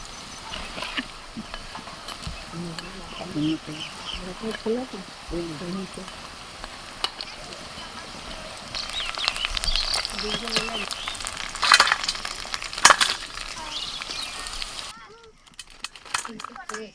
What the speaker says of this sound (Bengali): হালকা করে লাল করে ভেজে তুলে নেব আর এটা ভাজতে খুব বেশি সময় লাগবে না